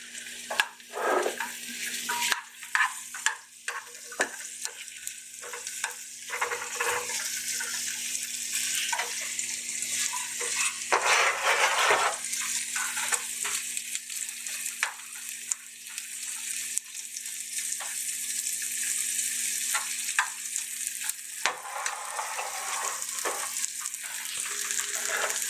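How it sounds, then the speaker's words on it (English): Steady, crackling sizzle of butter frying in a hot pan, close up and continuous, with occasional soft clinks and scrapes. "now you can see a little butter starting to sizzle"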